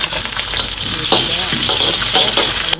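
Garlic, bay leaves and lime leaves sautéing in an iron wok, a loud close hissing sizzle with a few scraping stirs of a utensil.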